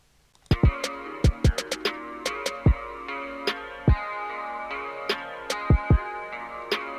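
A programmed drum beat made in FL Studio 12, sharp, punchy hits with quick clustered snare strikes forming a triplet roll, repeating in a loop.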